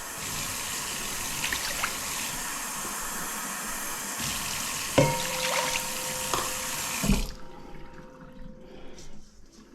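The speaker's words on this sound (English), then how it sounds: "Just some lukewarm water, 2 cups." Two cups of lukewarm water poured for pizza dough, a steady hissing stream running for several seconds before cutting off, with a couple of small knocks near the end and no talk.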